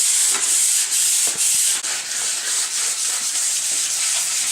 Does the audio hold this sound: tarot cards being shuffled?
no